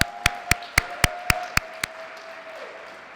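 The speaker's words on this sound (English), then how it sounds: "Come on, clap it up" Seven sharp, evenly spaced hand claps ring out at a Black History Month celebration, fairly close, then stop and leave a faint steady hum.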